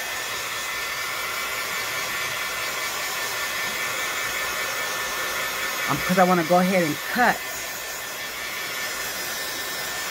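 A hair dryer runs steadily up close, drying a collage master board for bookmarks, with a continuous whooshing roar throughout while a person speaks briefly over it.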